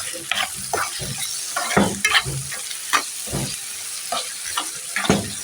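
Tomatoes frying in a pan being stirred, with repeated scraping strokes and bursts of sizzle in an uneven rhythm, close and clear.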